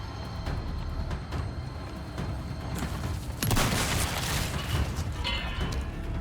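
Gunfire in the Resident Evil 4 Remake, a dense burst of loud shots and booms that swells midway through against a noisy, rumbling game backdrop, with no talking.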